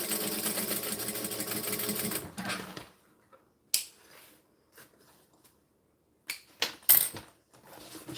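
A sewing machine runs steadily for about two seconds, stitching the bottom of a fabric pouch closed, then stops; a few faint clicks and rustles follow in quiet pauses.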